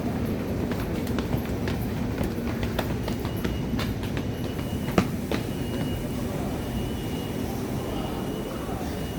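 A train passes at Charlapalli railway station, a steady loud rumble of rolling wagons with intermittent metallic clacks and one sharp knock, with faint voices in the background.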